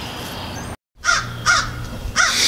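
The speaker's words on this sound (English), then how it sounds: "Damn crow." Crow cawing outdoors, three loud harsh caws at a steady rhythm following a brief gap, heard alone without talking.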